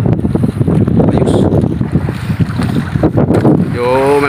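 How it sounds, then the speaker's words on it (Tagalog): Strong wind buffets a fishing boat at sea during lobster net fishing, with loud, constant gusting and microphone rumble, plus water sloshing and a whining engine near the end. "malakas ang hangin."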